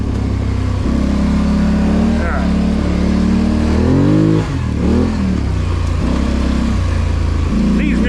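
A Sportsman ATV four-wheeler engine drones steadily on a Nebraska trail, its pitch rising and falling as the rider throttles over bumps, loud and close throughout.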